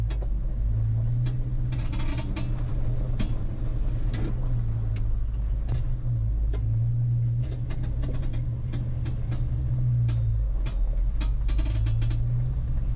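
A 1970s Ford F100 Dentside pickup with a new driveshaft driving along a road, recorded from inside: a low, steady engine drone with rising and falling hum, road rumble and scattered rattles and clicks from the cab.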